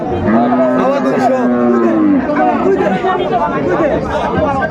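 A dairy cow with her calf lets out a long, loud, deep moo up close at the Raniganj livestock haat in Dinajpur, ringing over the steady chatter of a crowd of traders.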